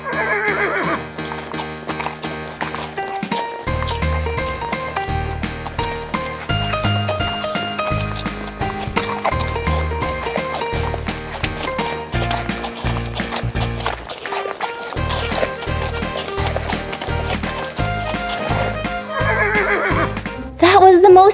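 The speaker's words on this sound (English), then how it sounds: "rode on a carriage that's been pulled by a horse" A horse pulling a carriage, with neighing and rhythmic clip-clop of hooves heard under a steady bed of music.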